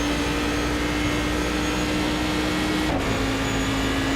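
Race car engine in iRacing at Monza, a steady, loud, buzzing drone heard from the cockpit with a brief dip and shift in pitch near the end, no talking.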